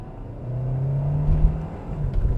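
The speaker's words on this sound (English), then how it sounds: "So let me put it into sport mode and I'll just give it a little bootful." A 2024 Kia Sportage Hybrid GT-Line accelerates in sport mode, its engine note rising in a steady, moderately loud drone heard from inside the cabin, with a slight rumble toward the end.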